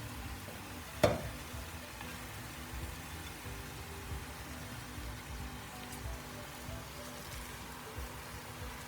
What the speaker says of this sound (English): Now I put the cabbage.